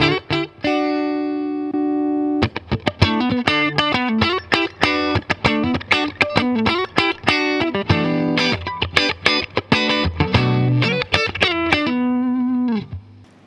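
Fender Stratocaster played clean through a vintage Boss compressor pedal into a Fender Deluxe Reverb amp, a sustained chord then a run of quick plucked single notes and short phrases, bright and punchy, ending on a held note.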